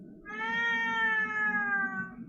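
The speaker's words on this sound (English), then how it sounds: "I heard your cat" A cat gives one long, drawn-out meow, clear and fairly close, heard over quiet room tone during an online meditation class call.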